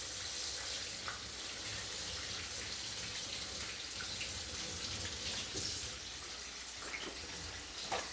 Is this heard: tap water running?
yes